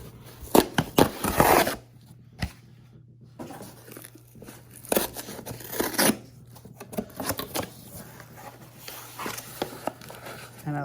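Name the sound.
tearing open a paper coin roll wrapper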